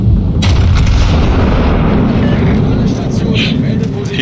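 Rockets slamming into a warship in World of Warships, a loud rumbling barrage of booming impacts with battle noise and a voice talking over it.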